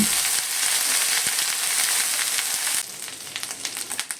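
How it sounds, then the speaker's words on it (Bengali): Onion paste fries in a pan with a loud, dense sizzle, close by. The sizzle eases partway through and gives way to irregular stirring scrapes and spatters. "পেঁয়াজ বাটাটা খুব ভালো করে আমি নেড়ে নেব"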